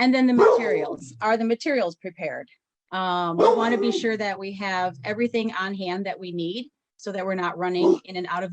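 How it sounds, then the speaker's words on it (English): A dog barks in the background of a room, faint and intermittent beneath a person's continuous talking during a presentation. "That's my dog barking in the background."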